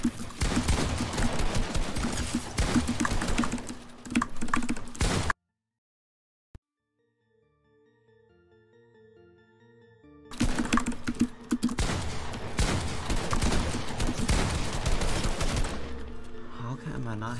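Rapid gunfire from the video game Fortnite crackles in dense, loud bursts, breaking off into a short quiet gap of soft game tones before the shooting resumes, with keyboard clatter mixed in.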